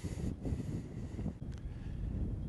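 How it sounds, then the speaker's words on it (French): Strong wind gusting across a camera microphone outdoors in Argentina, a steady low rumbling buffet throughout with brief dips and surges, loud and close. "un coup de vent me fait bouger la caméra"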